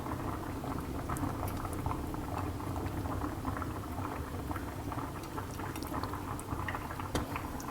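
Water boiling hard in a steamer pot ready for lobster cabbage rolls, a steady close bubbling and seething that fills the whole stretch with small pops scattered through it.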